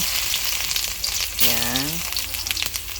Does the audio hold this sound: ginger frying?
yes